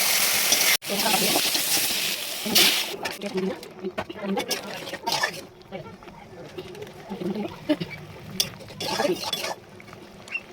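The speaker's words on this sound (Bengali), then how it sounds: "তো আলুটা ভাজা ভাজা হয়ে গেছে, এরপর আমি দিব মশলা" Fried potatoes sizzle in a pan as spices go in, a constant crackling hiss under stirring clinks and scrapes, with a person talking over much of it.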